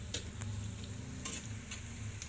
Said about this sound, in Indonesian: kita goreng sebentar bawang bombaynya